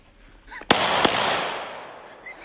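Two sharp gunshots fired outdoors in a Pacific Northwest woodland, the first loud and close with a long rolling echo, a second report about a third of a second later, the reverberation fading away over the next second.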